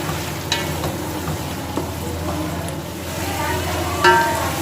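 Steady frying sizzle of liver with garlic and ginger in a pan, with occasional stirring scrapes and clinks, fairly close, no talking.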